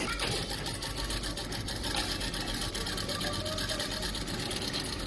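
A sewing machine stitching a young girl's frock runs continuously up close, a steady loud mechanical whir and rapid needle clatter with no pauses.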